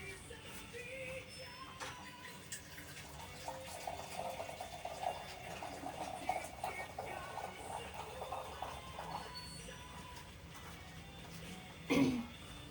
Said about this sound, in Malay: kita letak air.